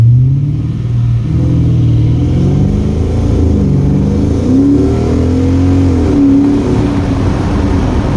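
A Lexus 3UZ V8 swapped into a lightweight Nissan 1400 bakkie with a full exhaust rumbles loud and deep, revving and sweeping up and down in pitch continuously, close and with no voices.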